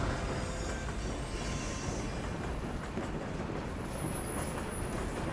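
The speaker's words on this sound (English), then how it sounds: "I'm on a train" Fast-moving train in the Little Nightmares II video game, a steady loud rumble of wheels and carriages that roars without a break, with a faint high squeal near the end and no speech.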